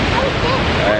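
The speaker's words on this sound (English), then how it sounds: "I'm just looking at the water falling." Steady rushing water at Huka Falls near Taupo, a continuous broad roar heard close and loud throughout with no distinct breaks.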